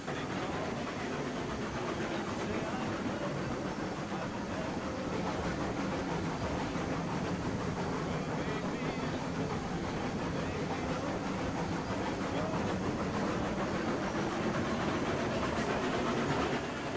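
A train runs along the tracks in the video game Railroads Online, a steady, even rolling rumble with faint rhythmic clatter that holds at a moderate level throughout.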